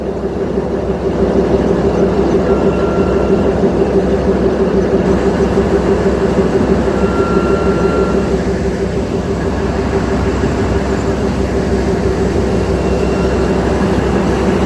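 A train rolls into Gajwel railway station, three platforms and a goods yard, with a loud, continuous low rumble and a steady engine drone, no voices.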